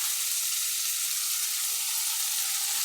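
Eggplant sautéing in a pan for biryani gives a steady, even sizzle of frying, close and unbroken from start to finish with no talking over it.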